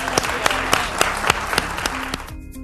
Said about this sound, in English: Would you all clap for Jeni?